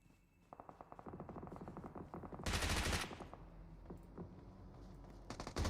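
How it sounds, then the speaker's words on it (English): Rapid automatic gunfire in a competitive multiplayer shooter match, a long run of quick evenly spaced shots followed by a loud burst and a few scattered later shots, no talking. "Amrit sees Ray, took some shots, not able to hit though."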